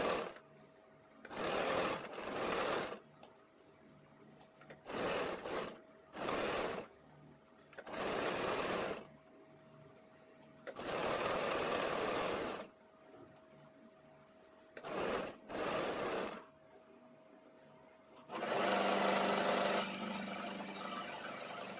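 A sewing machine stitches a fall onto a saree in a series of short bursts, each lasting one to two seconds with brief pauses between, running close and loud with a steady whir and no talking.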